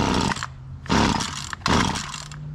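A Stihl HL94 gas hedge trimmer runs close by. Its engine roars in three loud bursts, each rising and then dropping back between revs, with no voices.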